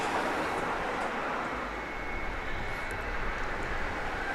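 Cayman Airways Boeing 737 MAX 8 jet engine roaring as a steady, broad, distant rush with no breaks.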